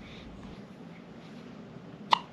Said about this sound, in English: baby boy has his first set of hiccups